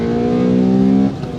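A 1992 Honda Integra XSi's VTEC engine revs close by, holding a loud steady high-pitched note before cutting off abruptly near the end.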